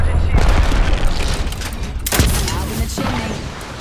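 Gibraltar's bombardment in the Apex Legends video game goes off as a dense, rumbling barrage of explosions and booms, while players talk tactically over the blasts.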